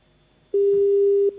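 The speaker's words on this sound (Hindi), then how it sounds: "आपका फोन कट गया" A telephone busy tone sounds after a call drops during a live phone-in TV health programme. It is one loud, steady electronic tone lasting under a second, following near silence, with no talking over it.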